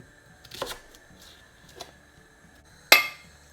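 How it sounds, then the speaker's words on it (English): A knife chops spring onions on a cutting board while a paneer egg jalfrezi is being prepared, giving three separate sharp knocks with pauses between them; the last is the loudest and most crisp, with no talking. "So I'm just going to chop this up first."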